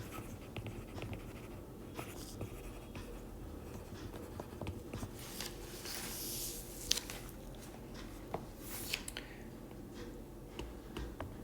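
A pen writes the chemical names of vitamins on paper, making faint, quiet scratching strokes that come and go over a soft room hush.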